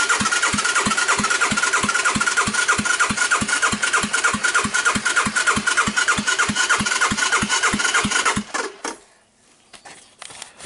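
A Honda Big Red 250 ATC engine cranks in a fast, even chugging rhythm during a wet compression test with oil in the cylinder and the carburetor off. It cuts out after about eight seconds and leaves a few faint clicks.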